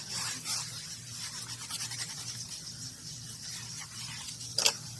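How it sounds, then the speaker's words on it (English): Paper is burnished down onto a signature cover of a handmade recipe journal, giving soft, steady rubbing strokes that are faint and close, with one brief sharper scrape near the end. "Come in and burnish that down."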